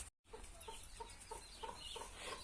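A hen clucks softly in short, repeated bursts against a steady low background hum, the clucks coming irregularly after a brief moment of silence.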